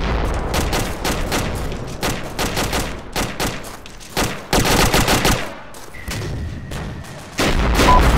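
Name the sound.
gunfire in the video game Arma (Shack Tactical)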